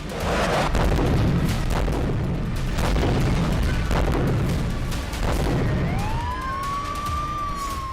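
A loud, dense rumbling roar with repeated heavy booms from an explosion in eastern Tehran at night, then a rising and falling siren wails in the final seconds.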